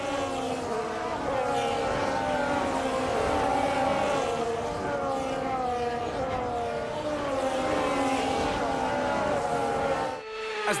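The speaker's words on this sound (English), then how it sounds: "As the cars make their way back to the starting grid to form up and get ready for lights out" Formula 1 cars in the F1 26 video game driving the formation lap at the Brazilian Grand Prix, a sustained layered engine whine with rising and falling pitch, steady and loud throughout before cutting off near the end.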